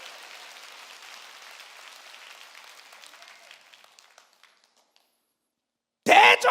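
A church congregation claps during a Korean sermon, a soft, distant patter of applause that thins and fades to silence, then a sudden loud burst cuts in at the end.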